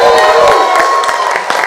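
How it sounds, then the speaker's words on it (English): A live audience at a Canadian real estate investor event cheers and applauds loudly and steadily for a guest being introduced, a dense wash of clapping and shouts close by. "Make some noise for Helene"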